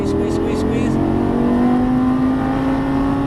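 A Lamborghini Gallardo Superleggera LP570-4 engine drones steadily under throttle on a race track, a loud continuous tone rising slightly, with a voice coaching over it.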